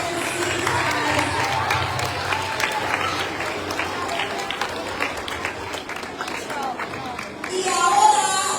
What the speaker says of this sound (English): Give her a round of applause as you take your seats, guys.